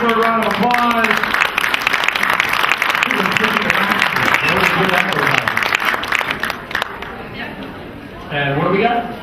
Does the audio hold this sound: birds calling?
no